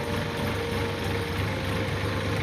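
A tractor engine runs with a steady, dense low rumble and rattling drone, close and continuous, on a drive through floodwater.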